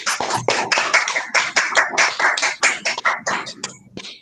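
Scattered applause at an academic thesis defense, a small group clapping in quick uneven bursts that thin out toward the end, close and clear with no speech.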